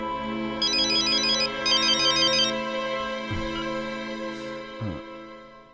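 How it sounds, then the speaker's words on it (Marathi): A phone ringtone plays loudly in a home setting within a Marathi TV serial: two bursts of bright repeating electronic melody, followed by a steady tone. Deep musical notes sound underneath, and no one speaks. "पल्लवीचा फोन"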